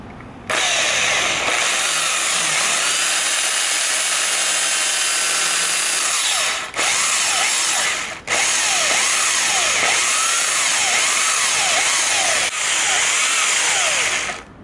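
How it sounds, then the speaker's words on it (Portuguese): A drill boring a 6 millimetre hole into an engine casing during a rebuild, running as a loud, continuous whine with brief dips and a few pauses in the cutting. "saber o quanto que ele vai furar de profundidade aqui, para não precisar furar nem a mais e nem a menos"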